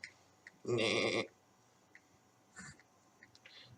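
A goat in the video game Goat Simulator lets out one loud, wavering bleat, followed by a few faint, short game noises against an otherwise quiet background.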